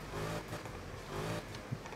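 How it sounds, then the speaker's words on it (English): A 1967 Camaro V8 engine revs in Need for Speed, two loud surging rev pulses with a brief lull between them, heavy low rumble throughout. "Y'all hear the engine."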